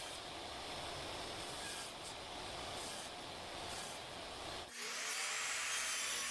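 A saw runs steadily through plywood pieces set against a stop block for crosscuts, giving a continuous harsh whine and grind that shifts abruptly near the end as the cut finishes and the blade spins on.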